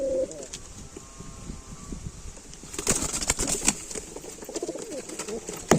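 A caged fancy pigeon coos softly at close range, then wings flap and rustle loudly in a quick flurry, with scattered small cage noises continuing afterward.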